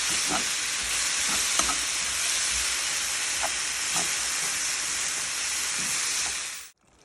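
Brussels sprouts with tomatoes and spices frying in a pan, a loud continuous sizzle and hiss with occasional stirring scrapes, ending abruptly.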